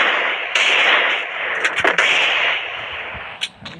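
Gunfire from a Free Fire custom match lands as a few sharp, punchy shots, a quick cluster near the middle and another toward the end, over a dense synthetic game soundscape.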